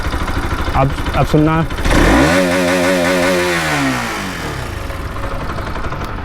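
A Bajaj Pulsar RS 200 motorcycle, seven years old with 40,000 km, idles close by after a brief spoken phrase, then is revved once in a rising and falling sweep before settling back to a steady idle.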